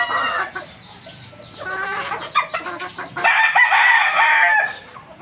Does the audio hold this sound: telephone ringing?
no